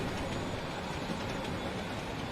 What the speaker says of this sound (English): You can hear a train going past on the OpenGL one